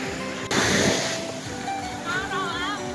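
Ocean waves wash in on Quy Nhon beach in Binh Dinh at dawn, a loud surging rush that swells early and then settles into a steady roar, with faint bird-like chirps near the end.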